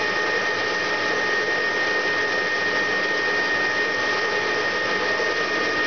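A machine takes a 1.5 millimeter cut while machining a bushing for a manure spreader, producing a constant, even whirring hum that stays level throughout, close by and without speech.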